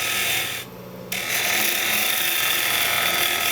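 Wood being hollowed on a lathe for a two-piece hollow vessel: a steady, loud rasping cut with a brief drop partway through, then continuous scraping shavings to the end.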